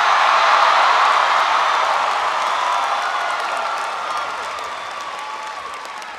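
Loud crowd applause fills a large stadium at a University of Michigan commencement ceremony, a dense, steady roar of clapping that slowly fades over several seconds.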